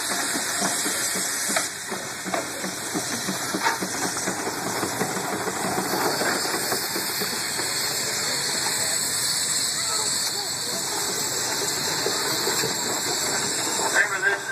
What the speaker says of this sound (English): He's got to bleed a little steam off so he can come on back down.